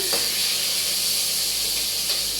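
Garlic frying in a pan, a bright steady sizzle and hiss close up, with a couple of faint stirring scrapes.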